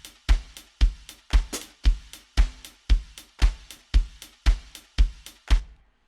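Punchy processed drum hits for a jazz house track, pushed through reverb, distortion and saturation, strike in a steady four-on-the-floor pulse, about a dozen thick saturated thumps with smeared reverberant tails, loud and alone.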